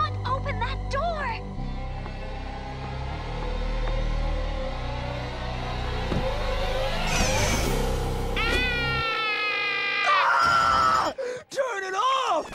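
A woman's high, drawn-out scream in a horror film rises over tense, dramatic music with a low rumble, followed by wavering shrieks and cries near the end.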